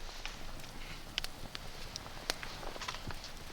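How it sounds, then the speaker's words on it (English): Pine knots burning in a campfire on the American prairie, with irregular crackles and sharp spluttering pops over a low, steady hiss of flame. "The spluttering flames on the pine knots is a really comforting sight."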